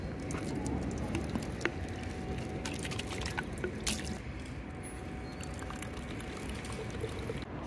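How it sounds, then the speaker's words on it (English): Running water from a public drinking fountain in Budapest splashes into a bottle being filled and rinsed, a steady close hiss and trickle with a few sharp clicks and clunks on top. "we can get the water fountain and we can fill this up"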